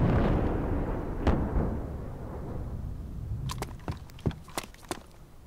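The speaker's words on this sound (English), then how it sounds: "He's shooting at the church." ARMA 2 combat with gunfire and explosions hitting a church: a heavy rumbling blast fades out, then a sharp thump, then a quick run of cracking gunshots, some near and loud, others lighter.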